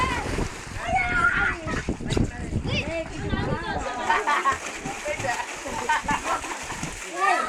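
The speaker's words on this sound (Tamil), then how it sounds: "நீ நீச்சல் அடிச்சு இங்கே வா." Water splashing as a child swims, repeated close splashes and sloshing mixed with excited talk from adults and children nearby.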